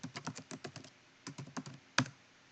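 Quick bursts of keystrokes on a computer keyboard, two runs of rapid typing separated by a brief pause, ending in one sharper key press, close and clear in a quiet room.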